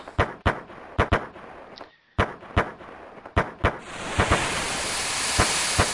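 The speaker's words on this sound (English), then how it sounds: "I hear gunshots" Gunfire in the Chrono Trigger video game: a series of sharp, loud bangs in uneven bursts, then a steady hiss that rises and fills the end.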